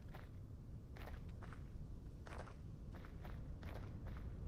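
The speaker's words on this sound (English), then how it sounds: "I like the footstep sounds on this gravel stuff." Footsteps crunch on gravel in a steady walking rhythm, about eight soft, close steps over a constant low background hum.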